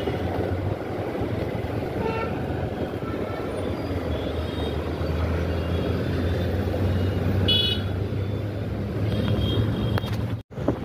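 Dense road traffic on a packed street on a Saturday: a steady, loud wash of engine rumble and tire noise with scattered horn toots, continuous throughout, with a brief dropout near the end.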